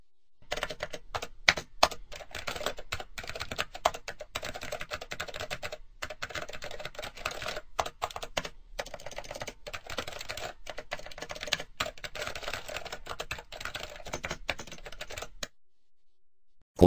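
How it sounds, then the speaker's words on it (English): Steady clicking keystrokes on a computer keyboard run for about fifteen seconds as a Windows XP Media Center Edition serial number is typed, fairly quiet and close, alone, ending abruptly in silence. "I typed the serial number for Windows XP Media Center Edition"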